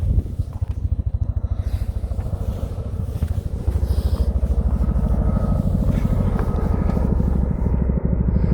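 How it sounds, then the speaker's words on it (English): A Chinook helicopter flying near Bamford Edge in the Peak District, its low rotor thudding rapid and steady, loud and continuous throughout. "I can't see it, but I can hear it. There is a helicopter over there."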